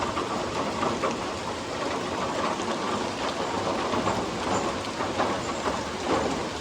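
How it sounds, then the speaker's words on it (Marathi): Steady rain pours down over a Konkan village at Dabhole near Devgad, a dense, even hiss of drops on surfaces that continues unbroken and fairly loud throughout. "बघू शकता तुम्ही, पावसाची सुरुवात झालेली आहे"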